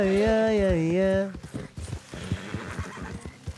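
A horse in Red Dead Redemption 2 whinnies loudly, then its hooves clip-clop in a quick uneven rhythm while a person talks over the game.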